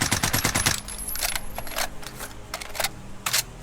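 Rapid bursts of C58 rifle fire in Call of Duty Warzone, a fast automatic string at the start followed by scattered shorter volleys and single shots, fairly close and crisp.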